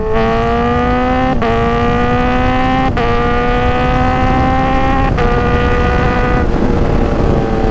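Motorcycle engine at high speed captured by a rear-mounted DDPAI Ranger M1 dashcam, a loud steady drone with rising harmonic pitch that drops sharply at several gear shifts, heavy wind rumble throughout, no talk.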